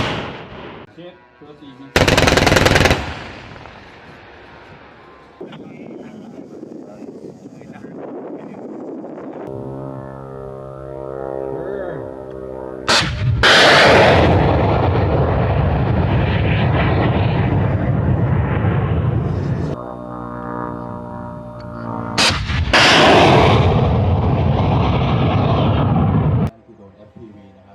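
US Marines fire an M2 Browning and an M240 in sharp, loud bursts that start abruptly and sustain into rattling roars, with shouted voices and radio-like talk between volleys.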